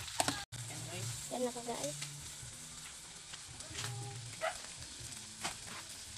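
Mussels sizzle in a hot pan for adobo sa gata, a moderate crackling fry with a few stirring clatters while someone speaks briefly over it.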